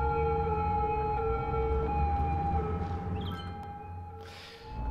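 Steady wailing ambulance siren stuck in city traffic in the Cities Skylines video game, droning continuously at moderate distance before fading slightly near the end.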